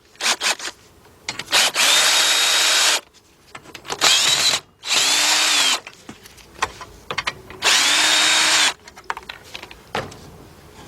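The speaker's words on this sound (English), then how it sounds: "I'm gonna make this quicker and get my little cordless gun." Cordless impact gun zips out intake manifold bolts on a 2004 Chevy Monte Carlo 3.4 V6, three loud sustained hammering bursts of about a second each with rattling and clanking between them.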